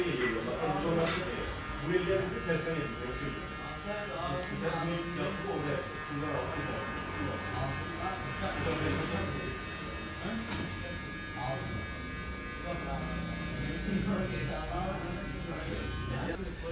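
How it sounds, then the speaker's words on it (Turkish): An electric hair clipper cuts short hair during a men's haircut at a barber, a steady close buzz running throughout beneath someone talking nearly the whole time. "Burada makine kullanırken makineyi sıkmadan bastırmadan kullanılıyor."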